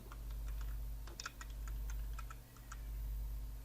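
Keys clack on a computer keyboard while text is typed into Microsoft Word, a quiet irregular run of crisp taps with short bursts and pauses over a low steady hum, no talking.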